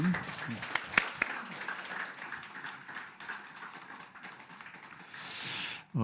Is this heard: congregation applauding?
yes